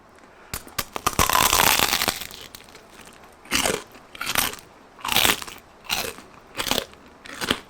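Crunchy bites and chewing of crispy oven-baked pork belly, with a loud crackling first bite followed by a steady run of about six separate crunching chews, close to the mic and without talking.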